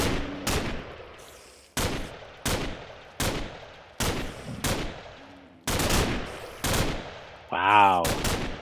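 Gunfire from a Flan's Mod gun in modded Minecraft rings out as a series of sharp, loud shots, about a dozen spaced at irregular intervals, each decaying briefly, with a short game sound effect near the end.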